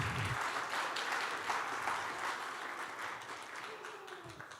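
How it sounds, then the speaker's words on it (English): Audience applause at a guide dog graduation ceremony, a steady wash of many hands clapping that stays fairly even and then slowly thins toward the end, heard alone without talk. "Let's give them a round of applause"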